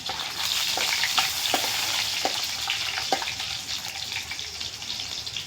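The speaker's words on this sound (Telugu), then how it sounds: "ఇప్పుడు ఉల్లిగడ్డ ముక్కలు వేస్తాను రెండు ఎండిన మిరపకాయ కలిగిస్తాను" Onion pieces and dried red chilies fry in a pan with a steady, close sizzle, broken by a few sharp crackles and stirring clatters throughout.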